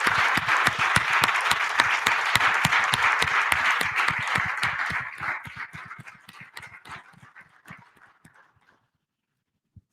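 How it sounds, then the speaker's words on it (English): Conference audience gives the volunteers a round of applause at an academic business meeting, dense steady clapping for about five seconds that thins into scattered individual claps and fades out by nine seconds. "let's just give a big round of applause to all the volunteers"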